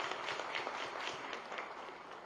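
Steady crowd clapping fills a conference hall at an Institute of Town Planners event, a dense, even patter of many hands at moderate distance that tapers slightly toward the end.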